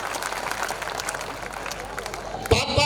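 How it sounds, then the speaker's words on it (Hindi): An audience at a comic poetry gathering claps loudly, a dense crowd applause that swells briefly near the end, with a voice cutting in over it. "अगर सुनना चाहते तो एक बार जोर से तालियां बजाओ।"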